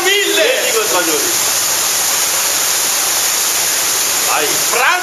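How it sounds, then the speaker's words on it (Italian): Loud, steady roar of a waterfall deep inside a cave system in the Grigna mountains, a broad continuous rush that fills the clip, with brief voices calling out near the start and end. "Cascata!"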